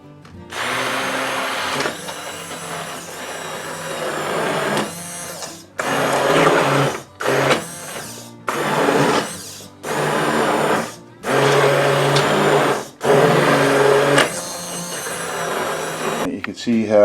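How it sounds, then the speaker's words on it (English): A hand immersion blender blends hot dog sauce in repeated bursts of several seconds each, separated by short pauses, loud and close. "if you're lucky enough to have an emulsion blender, a hand blender, then you can use this"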